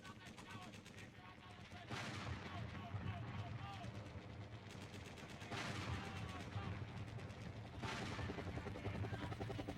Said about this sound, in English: Good production choice to start with the sounds of warfare.